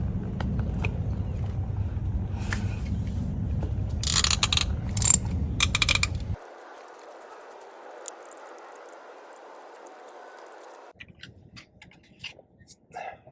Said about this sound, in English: now what we're going to do is remove the spark plug